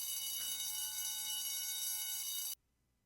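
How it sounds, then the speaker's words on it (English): Alarm clock with a harsh, high, buzzing ring like a fire alarm, sounding loud and continuous for about two and a half seconds before cutting off abruptly into near silence. "Why does his alarm clock sound like a freaking fire alarm?"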